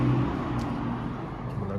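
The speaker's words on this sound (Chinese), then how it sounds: "公交车，" A city bus passing on a road about 11 metres below a second-floor open window, its low engine rumble steady and loud within continuous traffic noise, with no talking.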